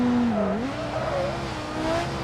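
Racing video game engine note of an Italian Bastion fitted with a V10 borrowed from the Scintilla, a steady high-pitched drone with pitch sweeps as it shifts and revs, close and continuous with faint tire scrub.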